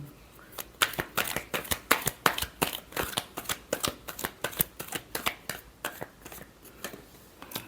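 Tarot cards being shuffled in a rapid run of crisp riffling snaps, close and fairly steady, with no voices over them.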